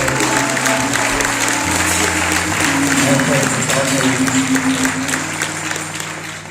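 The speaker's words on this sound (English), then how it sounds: "Let's give him a round of applause." Audience applause at a conference fills the clip, a sustained loud wash of clapping with steady low music or hum underneath and some crowd noise mixed in.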